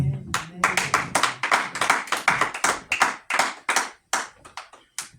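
A church congregation claps together for the word of God, a dense burst of close hand claps that thins into scattered, uneven claps before fading out, with a little speech mixed in at the start.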